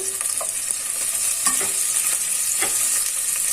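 Onions and chopped green chilies frying in a pan with salt for coconut rice, a loud continuous hiss and sizzle with a few spatula scrapes as they are tossed.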